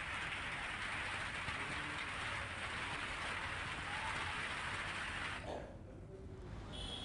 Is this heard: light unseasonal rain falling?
yes